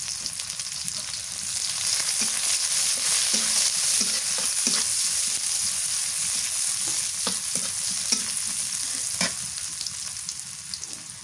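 Green chilies frying in hot oil in a pan, a constant close hiss and sizzle with occasional soft scrapes and taps of a spatula, steady throughout and without talk.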